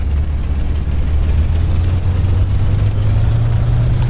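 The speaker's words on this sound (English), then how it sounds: "Engine's a little rough" A Spitfire's piston engine runs rough in the A2A Accu-Sim flight simulator, a loud steady low drone with an uneven rumble that climbs slightly in pitch before takeoff, with no talking.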